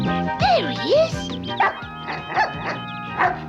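A cartoon puppy yelps and whimpers in a string of short, rising-and-falling whiny calls, close and fairly loud, with some voice-like sounds mixed in.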